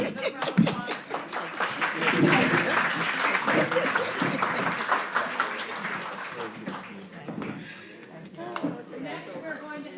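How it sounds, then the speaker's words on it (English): Audience applause at a community convening on gun violence, dense clapping that swells and then tapers off over about ten seconds, with chatter and voices mixed in. "Another round of applause."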